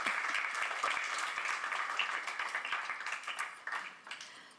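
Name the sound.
audience clapping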